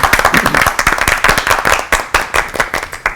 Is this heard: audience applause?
yes